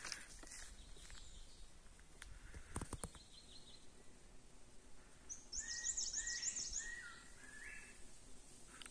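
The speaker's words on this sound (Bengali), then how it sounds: "পাখির আওয়াজটা শুনুন, কি সুন্দর ডাকছে।" Birds sing and chirp in a mountain forest of rhododendrons at Barsey wildlife sanctuary, soft high calls drifting in from a distance over quiet rustling, clearest as a short burst of chirps near the end.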